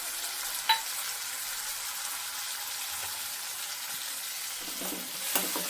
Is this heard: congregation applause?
no